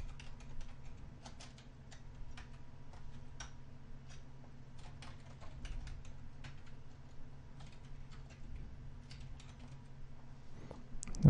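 Someone types router configuration commands on a computer keyboard: quiet, irregular clusters of keystroke clicks over a steady low hum, with a louder click at the very end and no voices.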